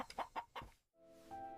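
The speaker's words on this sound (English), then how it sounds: "The wind, the distant cluck of a hen." A hen clucks softly in three short notes, faint and alone, then a brief pause gives way to a low steady hum.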